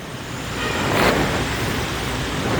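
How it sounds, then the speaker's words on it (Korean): Busy street traffic in the Phu My Hung Korean quarter of Ho Chi Minh City, Vietnam, full of motorcycles and cars, heard as a steady, broad roadway roar with one vehicle passing close at about one second, no talk. "오토바이는 많이 다니네요."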